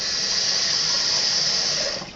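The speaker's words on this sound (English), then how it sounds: "I'm going to put a little bit more water to this." Water pours steadily into a cooking pot of carne guisada, a continuous, close splashing rush that tapers off at the end.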